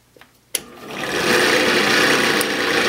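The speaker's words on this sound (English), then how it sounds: "So we're going to turn the motor on." An electric motor clicks on and spins up into a steady, fairly loud broadband whir that holds evenly for a couple of seconds, with no voices.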